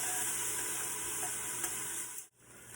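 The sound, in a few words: whisk stirring onions caramelizing in a pan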